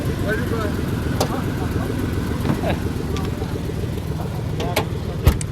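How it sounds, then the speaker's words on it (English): An old Ford F-150 pickup engine idles with a steady low rumble close by, just jump-started, while someone talks over it and a few light clicks sound. "I just started this old Ford F-150."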